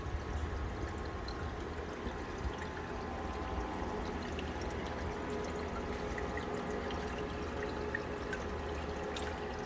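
Water churns and sloshes at the surface of a reef aquarium with pumps in wave mode, a steady, moderately faint trickling wash with no pauses.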